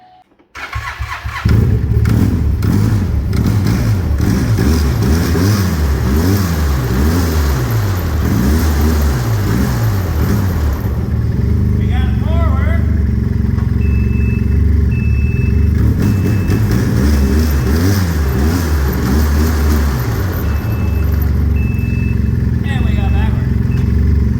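A 2014 1100 turbo snowmobile engine, freshly rebuilt at the chaincase, cranks and catches, then runs loud and close with a rough, revving idle that rises and falls steadily for the rest of the clip.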